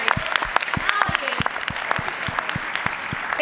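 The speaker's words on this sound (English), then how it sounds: "let's get a round of applause to the players" An audience at a sports awards event applauds steadily, a dense wash of many hands clapping with individual claps standing out, fairly loud and close.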